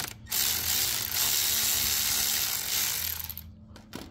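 A ratchet wrench loosens a 10 mm nut on a Vader 125 motorcycle, a close, loud stretch of rapid clicking pawl strokes running for a few seconds, then stopping with a couple of short ticks.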